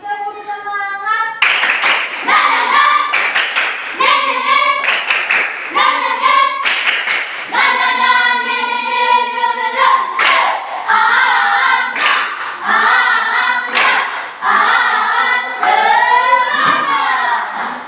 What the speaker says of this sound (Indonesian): Lebih cepat lagi, tepuk semangat.